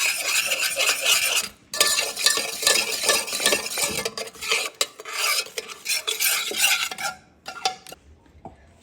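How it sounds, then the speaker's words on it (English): Chicken wings being stirred in honey barbecue sauce with brown sugar in a pot on the stovetop, a close, continuous rhythmic scraping and sloshing of a utensil with a brief pause and quieter sticky stirring toward the end. "I'm gonna stir."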